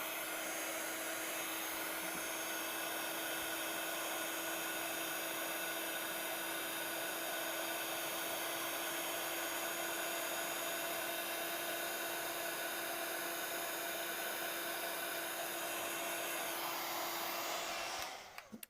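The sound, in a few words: heat tool blowing hot air to emboss powder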